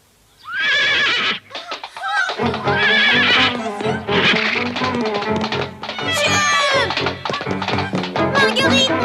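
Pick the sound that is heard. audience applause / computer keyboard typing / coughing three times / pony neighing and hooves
pony neighing and hooves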